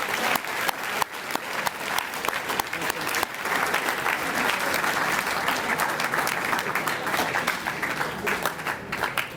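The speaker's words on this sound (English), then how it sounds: "Let's have a round of applause for all the volunteers." A banquet crowd at a boys' volleyball tournament in Kitchener applauds the volunteers with sustained, even clapping from many hands filling the room, fairly distant and unbroken, with a few sharper claps standing out.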